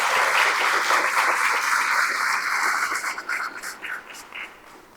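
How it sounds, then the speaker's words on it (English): A crowd at the Violins of Hope exhibit opening applauds an honors orchestra; thick, even clapping holds strongly for about three seconds, then thins into scattered claps and fades away. "Let's give them another round of applause."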